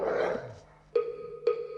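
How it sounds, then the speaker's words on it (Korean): Dog growling when someone tries to touch it, a short low rumbling snarl at the start followed by two sharp higher tonal yelps or whines, close and fairly loud. "자기가 먼저 이렇게 다가와 놓고는 만지려고 하면 으르렁"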